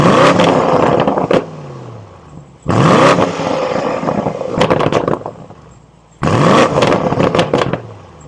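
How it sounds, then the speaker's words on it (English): BMW M850i xDrive Gran Coupe exhaust in Sport Plus, three loud, close bursts of revving with sharp cracks and bangs as each rev drops, separated by brief quieter idle gaps. "So it still sounds pretty damn good, very aggressive, lots of cracks and bangs"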